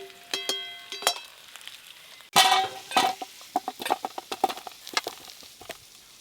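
Fried potatoes tipped out of a frying pan in a home kitchen, with a sharp metallic clank followed by a run of clinks, scrapes and hot-oil sizzle, close and fairly loud, no talking.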